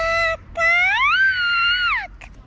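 A voice imitates a crow's call with two drawn-out, rising and falling vocal wails, the second long and sustained, close and clear with no other talk.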